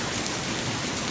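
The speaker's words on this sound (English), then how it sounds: "it's hailing here in Woodland" Hail and rain falling steadily in Woodland on a cool May day, a dense, even patter of drops with no pauses or voices.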